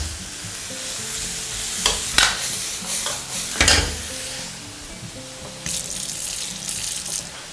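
Cooked cauliflower tossed quickly in a hot wok, bursts of loud sizzling and clattering stir-fry strokes over a running hiss, close and without speech.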